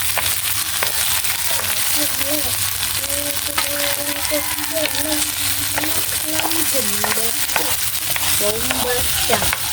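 Potatoes and corned beef fry in a pan with a continuous close sizzle and repeated scraping stir strokes, while faint chatter and a tonal background sound run underneath.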